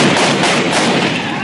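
Gunfire during street clashes between protesters and police, a dense, loud continuous roar of shots and crowd noise with no gaps.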